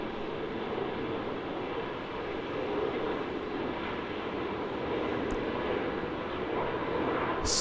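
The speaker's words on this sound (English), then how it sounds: "Super steep takeoff there." A QantasLink airliner roars through a steep takeoff from Melbourne Airport, its engines a loud, steady broadband rumble that holds for several seconds without any talk.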